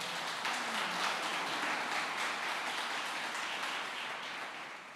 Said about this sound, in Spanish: Démosle un aplauso al Señor por eso